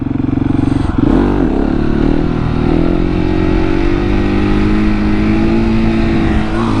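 A supermoto motorcycle engine revs hard during a wheelie, loud and close, with a quick throttle blip early on and then a sustained high rev held steady to the end, with no voices.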